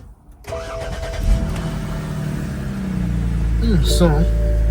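A used car engine cranks with the key, then catches and settles into a loud, steady idle that builds slightly, with a person's voice heard over it.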